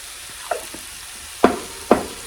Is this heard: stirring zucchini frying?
yes